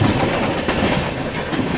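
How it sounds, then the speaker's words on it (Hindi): A train rolls slowly past close by, loud rumbling and rattling of wagons with a faint clickety-clack, steady throughout the short moment. "किस्मत अच्छी की ट्रेन आज यहाँ से धीरे धीरे निकल रही है"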